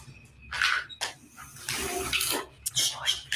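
Water runs from a tap inside a supposedly haunted house, splashing in uneven bursts that rise and fall, with fairly close, moderately loud gushes.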